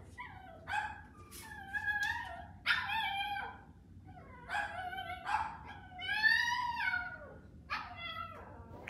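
A puppy yelps and screams in repeated shrill, wavering bursts, close and loud, with a second dog joining in; the cries come in uneven clusters separated by brief pauses.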